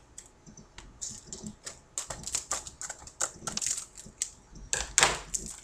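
Plastic wrap on a WWE Rock vs. Cena: Once In A Lifetime Blu-ray case being cut and torn open, a steady run of close, crisp crackles, scrapes and clicks with no talking.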